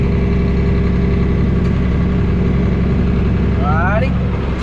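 A farm tractor engine idles steadily and loudly during a wheat harvest, a constant close drone with a brief mechanical whine near the end.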